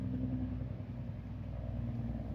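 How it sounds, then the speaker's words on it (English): A helicopter overhead and a car cruising by blend into one steady, low mechanical drone that holds evenly at moderate volume throughout. "that's a helicopter overhead and a car cruising by"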